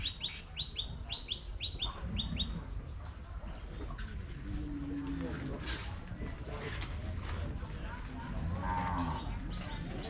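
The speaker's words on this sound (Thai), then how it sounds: "ชุดนี้เป็นวัว ไปตีน้อยฟาร์มนะครับ วัวใหญ่ครับ" Cattle moo repeatedly at a cow and buffalo market in Wang Prachop, Tak, Thailand, mixed with crowd chatter and nearby talking. Sharp bird chirps sound in quick bursts at the start, and the moos rise and fall over the busy background.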